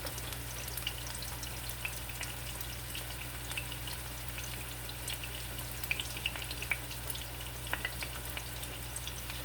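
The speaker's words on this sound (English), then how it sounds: "You can just see the steak just frying up." A steady, quiet sizzle of steak frying in a pan, with occasional small pops and crackles over a low background hum.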